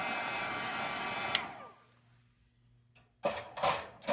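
A heat tool blows loudly while melting embossing powder on a card, then cuts off and winds down; after a pause it roars back in short bursts.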